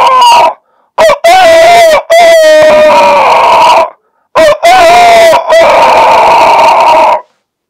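A man in an interview imitates a rooster with two loud, drawn-out crowing calls, each ending in a rising, wavering tail, close to the microphone with short pauses between.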